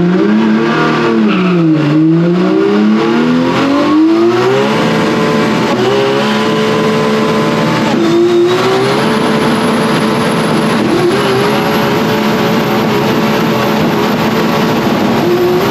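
An Audi RS4 sedan accelerates hard with wheels spinning, its engine roaring loudly and climbing in pitch through the gears, with tones sweeping up and down before settling into a steady, high-revving drone.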